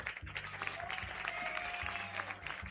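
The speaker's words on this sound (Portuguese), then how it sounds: "Palmas, palmas." Quiet applause from a small studio audience during an interview with a poet, faint and scattered, with a low hum underneath.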